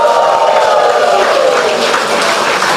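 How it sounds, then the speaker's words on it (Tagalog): A church congregation fills the room with loud, dense applause mixed with cheering and shouts, a continuous roar of clapping throughout. "Malakas sa palakpakan, may kasamang hiyawan"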